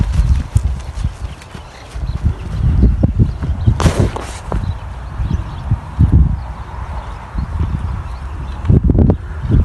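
A horse walks nearby, its hooves clip-clopping in an irregular rhythm of close, fairly loud hits over a low outdoor background, with no voices.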